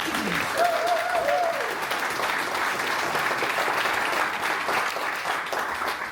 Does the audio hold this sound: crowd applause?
yes